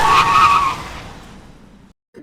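A car skidding with a loud, close tire squeal that slowly fades out, cut off by a sudden silence and then a faint new sound.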